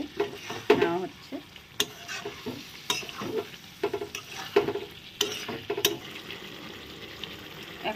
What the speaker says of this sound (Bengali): একসঙ্গে দিয়ে ভালো করে এখন নেড়ে চেড়ে নেওয়া হচ্ছে